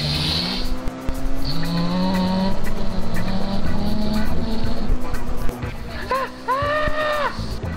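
Cartoon car chase with a vehicle racing fast, engine whine and whooshing effects under excited cartoon voices and squeaky exclamations, busy and loud throughout.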